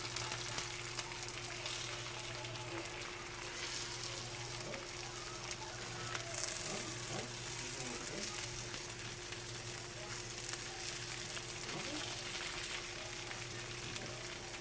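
Keto chicken parmesan frying in a pan, the pieces flipped as they turn golden and crispy: a steady, fairly quiet sizzle runs throughout with a few faint clinks.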